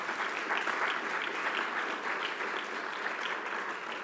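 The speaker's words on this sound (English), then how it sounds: "Please give them a round of applause." A conference audience at a Mediterranean food event applauds, a steady, even wash of clapping that holds for several seconds without voices on top.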